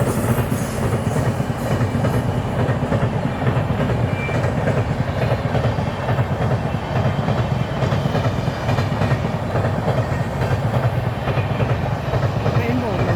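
A train passes on the railway near a house in Kerala, a loud, steady rumble with continuous clickety-clack of wheels on the rails, heard close throughout with a voice faintly beneath it.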